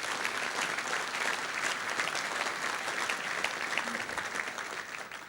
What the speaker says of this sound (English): Don't give him too many applause